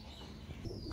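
Pigeons coo softly in a loft of Bangladeshi breeding birds, a brief low murmuring call, faint and close, with no talk over it.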